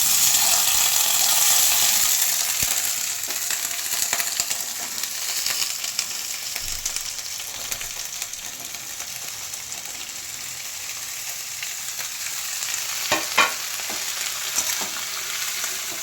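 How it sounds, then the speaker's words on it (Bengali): Vegetables hit hot oil for a mix veg paneer dish, giving a steady, loud broadband sizzle that fills the whole stretch, with occasional stirring clinks and a brief scrape near the end; no talking. "তেল গরম হয়ে গেছে, এবারে আমি একে একে সব সবজি দিয়ে দেবো।"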